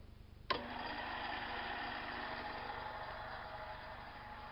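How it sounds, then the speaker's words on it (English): An electric motor switches on abruptly and runs steadily, fed from a bridge rectifier and transformer supply during an impedance test, giving a continuous mechanical hum with a faint tonal whine, close and alone without speech. "I'll turn the motor on now."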